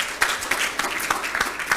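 Scattered audience applause at a talk event, individual claps sharp and distinct over a softer bed of clapping, moderately close and brief.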